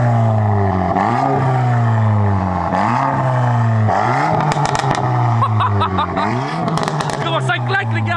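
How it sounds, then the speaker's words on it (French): Volkswagen Golf 8 GTI Clubsport tuned past 400 hp, with its exhaust blipped outdoors: a series of loud, close rev sweeps rising and falling, followed by sharp crackles and pops on the overrun. "Écoutez-moi ça les gars,"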